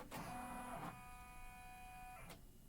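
An embroidery machine runs fast through in-the-hoop rivet placement stitches for an asymmetrical bag, a steady mechanical whir with tonal hum that stops abruptly near the end, heard alone.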